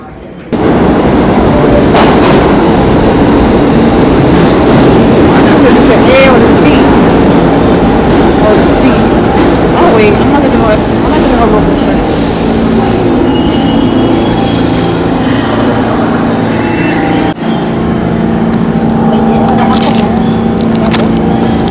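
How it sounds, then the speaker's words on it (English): A train rumbles loudly and continuously through a station, with metallic screeching and clattering over a steady roar, and faint voices in the background. "I'm just waiting for the train now."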